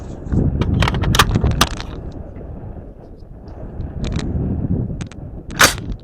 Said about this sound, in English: We're shooting FMJs.